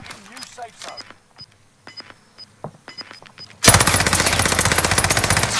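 Gunfire in the Warzone video game: after a quiet stretch of faint beeps and light thuds, a loud, rapid burst of automatic fire starts suddenly and keeps going to the end.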